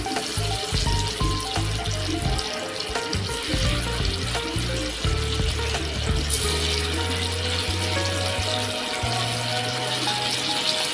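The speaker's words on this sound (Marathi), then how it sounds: "आता आपण एक एक कोलंबी याच्यामध्ये फ्राय करण्यासाठी ठेवणार आहे." Stuffed prawns fry in hot oil with garlic on medium heat, a loud, close, steady sizzle and crackle running throughout with faint clinks and occasional utensil scrapes, no talk.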